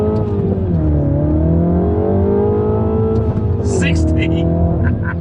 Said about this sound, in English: Straight bit of road. 0 to 60 test. 3, 2, 1, go.